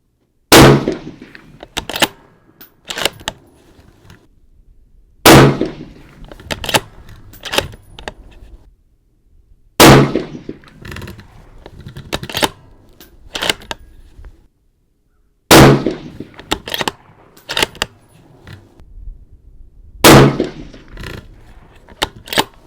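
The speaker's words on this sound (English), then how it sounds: "Shooting 5-shot groups, 100 yards." Rifle shots from a Mauser M18 firing Fiocchi Exacta Match 175 grain ammunition at 100 yards, five sharp, loud cracks spaced several seconds apart, each trailing into a brief echo with faint handling clicks between.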